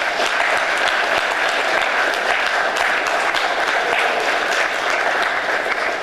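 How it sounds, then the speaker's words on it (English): Sustained, even applause from a school assembly crowd honoring veterans, many hands clapping steadily throughout without pause. "let's give our veterans a round of applause"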